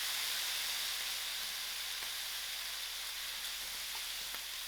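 Mustard seeds and cubed loki (calabash) frying in hot oil give a steady, even sizzle and hiss with faint scattered pops, heard close and alone without talk.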